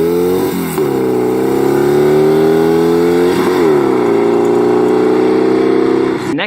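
A turbocharged Volkswagen-based hot rod engine revs close and loud, its buzzy note rising and falling in a few sustained pulls with short dips between them at an outdoor car show.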